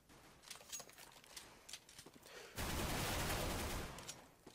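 Rapid automatic gunfire in Counter-Strike: Global Offensive, a few scattered shots followed by a loud sustained burst of close, dense firing that tails off at the end.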